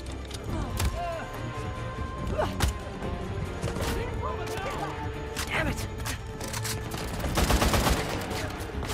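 Gunfire in Uncharted: The Lost Legacy, a rapid series of shots and bursts in a busy firefight, with voices talking amid the shooting.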